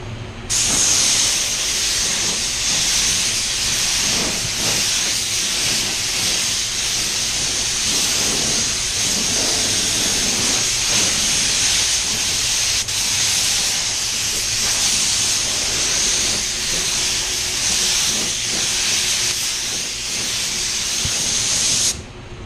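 Spray gun laying clear coat onto raw plastic gives a loud, continuous close hiss that holds steady almost the whole time before cutting off at the end.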